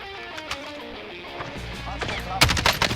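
Gunfire in the video game Call of Duty Warzone: a quick cluster of loud shots near the end, following a stretch of quieter game sounds.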